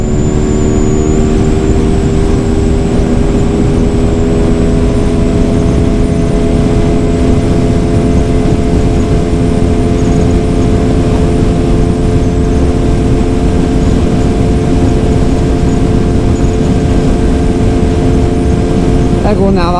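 TVS Apache 200 motorcycle engine revving loud and steady, a droning roar with rising harmonic tones as it pulls through the gears, heavy wind rush throughout.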